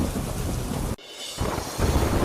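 Heavy rain pouring during a thunderstorm in Uttarakhand's Pauri district, a dense hiss with low rumbling, briefly cut off near the middle before resuming.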